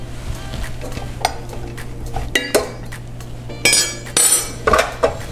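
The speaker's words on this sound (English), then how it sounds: "Just going to stir it a little bit more on the burner." A spoon stirs a mixture in a pot on a kitchen burner, making close, intermittent clinks and scrapes against the metal over a low steady background hum, with no talking.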